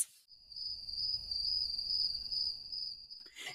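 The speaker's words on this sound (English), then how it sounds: "Cue the crickets." Steady, close crickets chirping in a continuous high trill for a few seconds, with a faint low rumble beneath and no other sounds.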